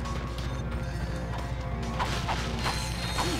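Boxes smashing open in Ratchet & Clank: Up Your Arsenal, a dense run of crunching breaks and mechanical clatter over steady game music and effects, fairly loud throughout.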